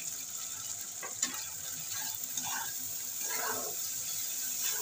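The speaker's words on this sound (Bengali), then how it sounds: "মশলাটাকে ভালো করে কষিয়ে নেব।" Spices with turmeric powder frying in a pan for a Bengali whole-potol masala rui fish dish, a soft steady sizzle with faint scraping stirs, fairly quiet and continuous.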